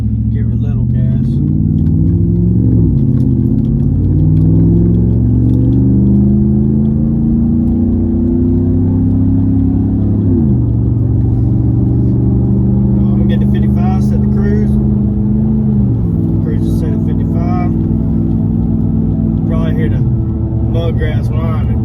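A 2014–2015 Chevrolet Silverado pickup with no muffler, a 9-inch lift and 37x13.50 tires on 20-inch wheels drones loudly up close, its engine revving up and falling back several times in long rising sweeps.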